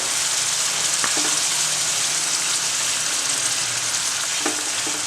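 Ingredients for Delhi-style chicken barra curry sauté in a hot pan, a steady, close sizzle running unbroken throughout with a few faint stirring knocks.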